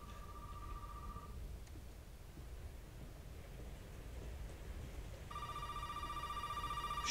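An old telephone rings in the horror game Resident Evil 7. An electronic ring sounds briefly at the start and returns near the end, heard faintly against a low rumble of rain and wind.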